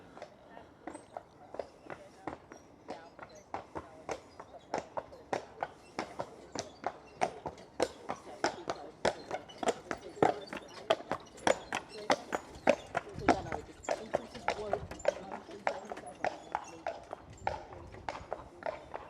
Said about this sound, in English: I didn't know they rode horses through here.